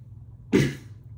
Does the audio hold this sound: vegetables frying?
no